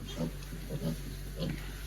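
Small piglets on a farm grunt softly in short repeated bursts over a steady background hum, faint and fairly close.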